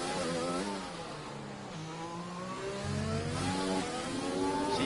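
Onboard racing car engine at Monaco in a racing video game, a loud, continuous whine that climbs and drops as the car accelerates and shifts through gears, heard close with no voices over it.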